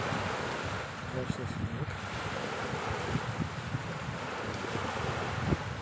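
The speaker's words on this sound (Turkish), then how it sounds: "Rüzgar da var ama saatte 80 km oldu saat herhalde." Strong wind and surf on Mecidiye beach near Keşan, with roughly 80 km/h gusts, roar as a steady, loud broadband wash buffeting the microphone throughout, while a person speaks briefly over it.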